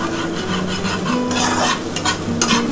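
Onion, carrot and beans stir-frying in white oil in a wok while cooking egg chow mein, a steady loud sizzle with bursts of scraping as a spatula stirs the vegetables, no voices.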